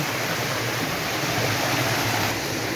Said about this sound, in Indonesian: Ini dia, kita udah deket air terjunnya.